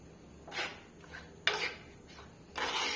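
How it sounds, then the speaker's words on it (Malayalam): A spoon scrapes and stirs curry in a metal pot, making three separate bursts of scraping with quiet pauses between them, close by and moderately loud, with no talking. "ഇത് നന്നായിട്ടൊന്ന് ഇളക്കി കൊടുക്കാം."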